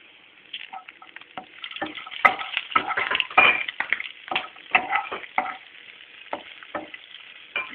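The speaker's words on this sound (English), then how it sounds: "Chopped ginger. Let it fry." Chopped ginger and green chili fry in a pan, a close crackling sizzle broken by irregular scrapes and clinks of a spoon stirring, busiest in the middle and settling toward the end.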